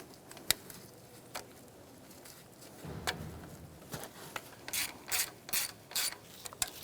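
Several sharp, quiet ratchet clicks come in short bursts, growing denser toward the end, as a bolt on the fuel line bracket of a 2012-2018 Ford Focus 2.0L is started and snugged. The clicks are close and nobody talks.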